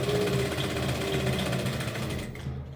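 A sewing machine runs continuously in a steady mechanical whir while stitching a seam between two existing lines of stitches, holding an even rhythm close by before stopping at the end.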